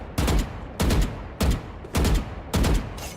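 Video game gunshots in five evenly spaced short bursts, each a pair of sharp, loud shots with brief quiet gaps between.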